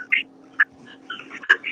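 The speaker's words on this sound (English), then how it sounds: "Sounds like there's birds squeaking in the background." Small birds squeak and chirp in short high bursts in the background, with a few distinct calls spread across a quiet indoor scene.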